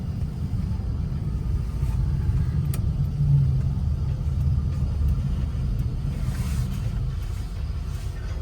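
A 1967 Chevrolet Camaro with a 327 V8 rumbles steadily from inside the car on a test drive in Kentucky, a low, continuous engine drone with mild swells of throttle.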